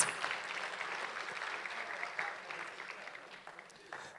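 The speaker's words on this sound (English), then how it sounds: "Can we give a better round of applause to the chairperson of ICASA" Applause for the ICASA chairperson at an ICT summit, a fairly quiet, continuous patter of many hands clapping that slowly thins toward the end, with faint voices mixed in.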